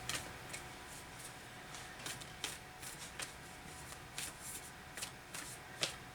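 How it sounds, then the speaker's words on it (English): Angels and Ancestors oracle cards are shuffled by hand in soft, repeated riffling bursts at an uneven rhythm, close and quiet. "I'm going to take two from the Angels and Ancestors Oracle cards"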